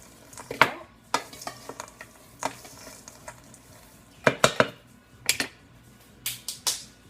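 Homemade granola is stirred in a pan, with sharp, irregular scrapes and clacks of the utensil against the pan over a quiet background, in scattered bursts of two or three strokes.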